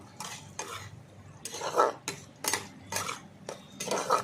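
A utensil stirs ivy gourd (kundri) curry in a pan, giving repeated scraping and clinking strokes in uneven bursts over a faint background, fairly quiet and close.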